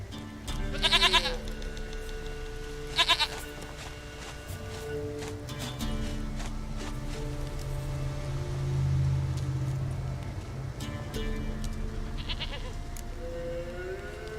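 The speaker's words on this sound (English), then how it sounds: "Goat of mine, dearest, sweetest goat." A goat in a video game gives two short bleats close by, then a few quieter bleats later, over a steady background hum of game ambience.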